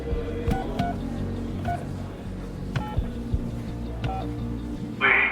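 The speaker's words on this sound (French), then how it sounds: "Je décroche le téléphone pour appeler Émile Louis" A telephone being dialled: a series of distinct touch-tone beeps spaced irregularly over a low hum, close and clear, ending with a brief louder burst of tone.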